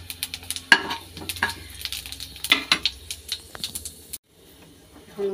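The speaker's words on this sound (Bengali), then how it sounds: "এখন 5 ফোড়ন দিয়ে দিচ্ছি।" Panch phoron spices dropped into hot oil sizzle and crackle in a home kitchen, sharp pops and spits close up, settling into a steady fry before a brief quiet gap.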